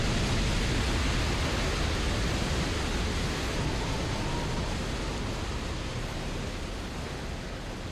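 A steady, dense roaring rush of broadband noise, an EF5 tornado roar from the Garry's Mod GDisasters game, loud and constant throughout with no pauses.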